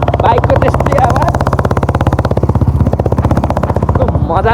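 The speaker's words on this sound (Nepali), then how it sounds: "बाइकको त्यस्तै आवाज" A motorcycle engine running close by with a steady rapid putter that stays loud and constant, then revs slightly near the end, alone without speech.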